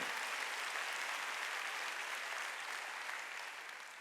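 A church congregation breaks into steady, sustained applause during a Wednesday worship service, a dense wash of clapping filling the room for several seconds before easing slightly at the end.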